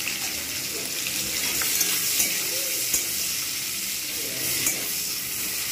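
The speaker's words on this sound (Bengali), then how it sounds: "পেঁয়াজটা কিন্তু ভালোভাবে আমি লালচে করে ভেজে নেব" Onions sizzle in hot oil for a Bengali rohu fish curry with yardlong beans and potatoes, a steady bright hiss with occasional stirring clicks and clatters, close and unbroken.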